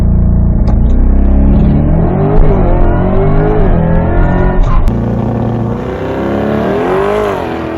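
A Chevrolet Corvette E-Ray, a hybrid all-wheel-drive car, launches and accelerates hard, its engine a loud, close roar climbing through rising revs with brief shifts between gears.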